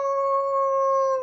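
A person imitating an old hound dog howl, one steady sustained vocal howl held for just over a second, loud and close with a clear pure tone and no other sounds.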